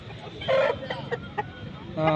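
A rooster at the Nallapadu village poultry market makes a few short clucking calls close by, with people talking around it.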